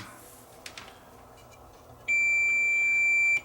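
A multimeter gives one sustained, clear electronic beep of just over a second during a continuity test across the transformer of a 1980s Panasonic CD player, preceded by a couple of faint probe clicks in a quiet room.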